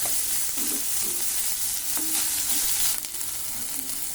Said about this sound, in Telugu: ఇప్పుడు ఆనియన్స్ వేసుకోవాలి. ఇది కొంచెం సేపు ఫ్రై అవ్వాలి.